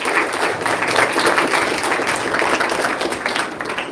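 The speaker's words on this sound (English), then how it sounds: "can we please give a round of applause to Ruhaina" A round of applause at a primary school transition ceremony, with steady dense clapping at an even level throughout that eases slightly near the end.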